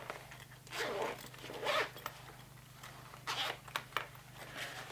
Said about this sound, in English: Open the zipper up.